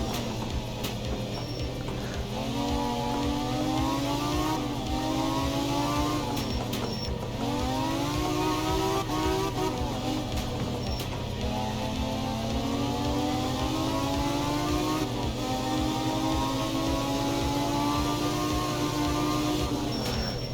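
Engine note of the il cavallo 803, a 1974 Group 3 rally car in the racing game Art of Rally, revving in repeated rising sweeps as it shifts through gears, steady and loud throughout with no talk.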